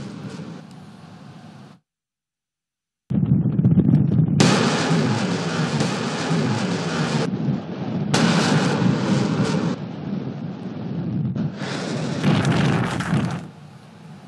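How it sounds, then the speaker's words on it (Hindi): Naval warships of the Pakistan Navy and Saudi naval forces fire missiles at targets, heard as loud sustained roaring blasts and rumbles that swell and drop in long bursts after a brief silence. "जहाज़ों ने ज़मीन से सताए ज़मीन और फ़िज़ा में हदफ को निशाना बनाने वाले मिसाइल फायर किए।"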